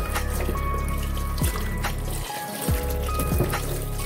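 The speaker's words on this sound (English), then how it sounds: "once I put it in the pot, I'm putting the water." Water pours into a pot holding yam pieces for parboiling Nigerian yam porridge, a close, steady trickling splash with a brief dip in the flow partway through, heard alone.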